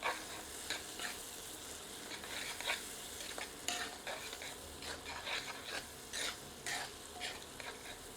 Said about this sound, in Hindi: आंच मध्यम करके प्याज को 5 मिनट भूनते हैं।